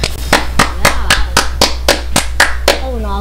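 Hand claps ring out inside a Fortnite Chapter 4 match, about ten sharp evenly spaced claps that are loud and close, with a voice briefly audible near the end.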